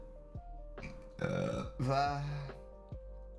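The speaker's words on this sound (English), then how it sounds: "Belch." A single drawn-out belch from a man, close and fairly loud, rising in a couple of gurgling bursts over a quiet background hum.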